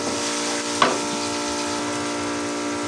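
Chopped onion frying in a pan for an egg and potato dish, a steady broadband sizzle close by with one brief clink near the start, no voices.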